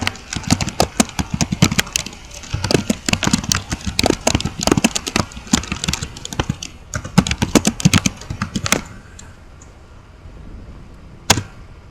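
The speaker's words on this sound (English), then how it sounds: "I'm just going to type a real quick message here" Rapid keyboard typing on a computer keyboard, close and loud with uneven bursts of clacking keystrokes, then trailing off into near silence with one last sharp click.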